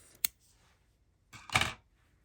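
Two quick scissor snips cutting crochet yarn close by in a quiet room, a short sharp click followed a moment later by a longer, crisper cut.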